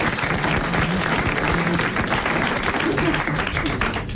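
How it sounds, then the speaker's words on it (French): A French radio game-show studio audience in 1983 applauds a contestant, a dense, steady wash of clapping that fills the room, with faint voices mixed underneath. "Alors, vous applaudissez Monsieur Belfond-Palaiseau."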